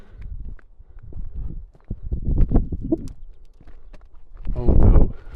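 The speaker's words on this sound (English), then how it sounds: "Okay, yeah, they're definitely cows." A herd of young cows approaching across a field outdoors, with scattered hoof thuds, shuffling and breathy movement building closer, ending in a louder burst near the end.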